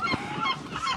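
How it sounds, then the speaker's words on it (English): Seagulls screaming at a marina in Sines, a chorus of repeated harsh, honking calls close by, overlapping one another with no talk. "We have arrived, and the seagulls are singing for us"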